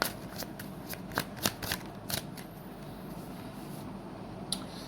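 Tarot cards being shuffled by hand, a run of crisp riffling flicks and soft slaps that come in bursts, then thin out to a few faint taps against quiet room noise.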